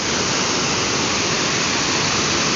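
A strong river current rushes with a dense, continuous roar of turbulent water, loud and close, with no breaks or other sounds.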